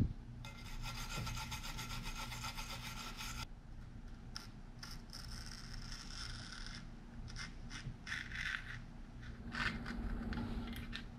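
Sandpaper is rubbed by hand over a boat's outboard lower unit, producing faint, continuous rasping scrapes with irregular strokes over a low background hum, without speech.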